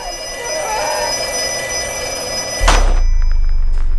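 An old black telephone rings with a steady, shrill bell in a horror movie trailer, then a sudden deep boom cuts in and a low drone takes over.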